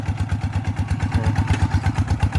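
A walking tractor's small engine chugs close by in a fast, even thumping rhythm while ploughing a rice paddy, with a light mechanical clatter over the beat.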